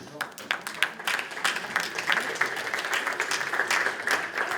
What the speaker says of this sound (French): Véronique Lebris, on l'applaudit